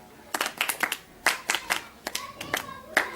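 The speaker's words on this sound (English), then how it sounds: "Can you clap hands for Kuzanai?" A school class claps for a pupil during a punctuation lesson, a small group giving quick, uneven bursts of close hand claps in loose rhythmic clusters over a quiet room.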